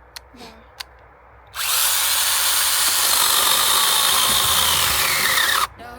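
Cordless mini chainsaw, a STIHL GTA 26 or ProCraft PKA 45, cuts wood in one sustained high whine lasting about four seconds, preceded by a couple of clicks and ending abruptly, close and loud.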